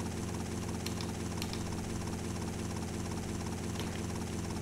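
A helicopter in the video game GTA Vice City Stories drones with a steady, dense rotor and engine roar that fills the whole stretch at an even level.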